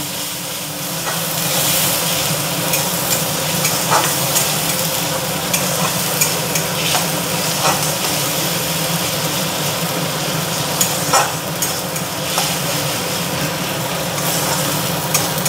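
Figs being sautéed in a pan with turmeric powder and green chillies, a loud, continuous sizzle and hiss with soft stirring scrapes throughout, no talking.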